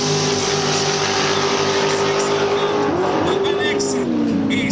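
Drag racing engines roar continuously in a Camaro 2010 versus dragster final, a loud sustained drone with pitch shifts near the end and a commentator talking over it.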